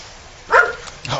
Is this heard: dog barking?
yes